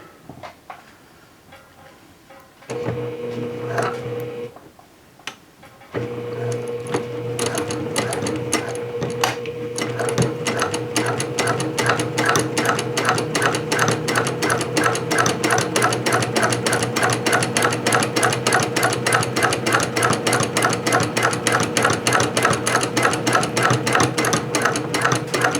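A sewing machine runs a jeans seam, starting with a short run and a pause, then a long continuous stretch of fast, rhythmic needle clatter, loud and close.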